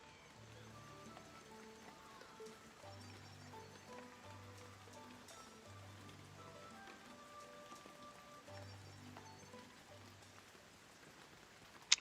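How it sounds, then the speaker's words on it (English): Steady soft rainfall patters on surfaces in the Shenmue III video game, a quiet continuous hiss under a gentle melodic game music background, with no talking. "The rain sounds so relaxing."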